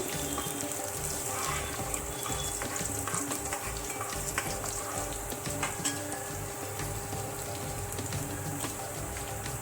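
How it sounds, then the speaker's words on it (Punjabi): Garlic and ginger sizzle and fry steadily in a hot pan as the base for masala aloo matar, a continuous crackling hiss with occasional stirring scrapes and no talking. "ਇੱਕ ਮਿੰਟ ਵਾਸਤੇ ਇਹਨਾਂ ਨੂੰ ਭੁੰਨ ਲੈਂਦੇ ਆਪਾਂ"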